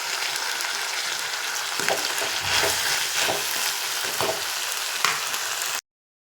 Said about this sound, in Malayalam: ഉപ്പിട്ട് കൊടുത്തിട്ട് നന്നായിട്ടൊന്ന് ഇളക്കിയെടുക്കട്ടെ.